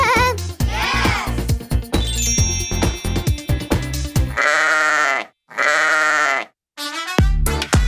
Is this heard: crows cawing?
no